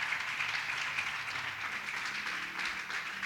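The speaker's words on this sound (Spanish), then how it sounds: "Dale fuerte ese aplauso al Señor." A church congregation at a Spanish-language Sunday service claps for the Lord, a dense, steady wash of applause from many hands filling the room without pause, no voices standing out.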